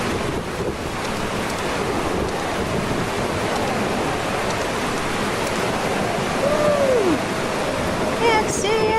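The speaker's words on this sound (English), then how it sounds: "this rain is bad." Heavy rain in the video game Eastshade, a dense, steady hiss and roar of downpour with windy rumble filling the whole stretch, while a person talks over it.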